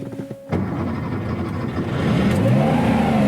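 Porsche 914/6 flat-six engine revving loudly during a gear shift, a brief dip then a rising, sustained drone with climbing engine pitch, close and continuous.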